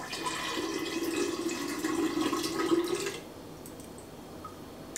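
Sea moss water is poured into homemade lemonade made with real lemons, a steady close liquid stream for about three seconds, then it stops, leaving quiet room tone.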